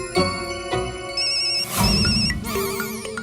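A phone ringtone plays repeatedly with no one answering, a melodic electronic ring in bright tonal bursts, loud and close, with no voices.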